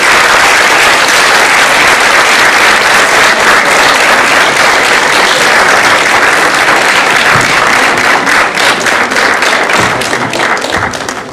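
A school assembly crowd at a Year 11 leavers' event applauds an award winner, many hands clapping loudly and continuously, the thick sustained clatter tapering off in the final seconds.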